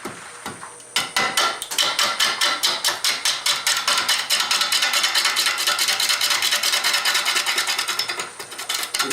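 A hand gouge braced against the body carves an arc into a mulberry log, giving a steady run of sharp, rapid scraping cuts in quick rhythm, close and fairly loud, with no talk.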